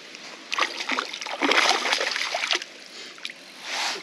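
A sunshine bass splashes and thrashes at the water surface at a put-and-take fishing lake, delivering bursts of close, bright splashing and sloshing that rise and fade over a few seconds.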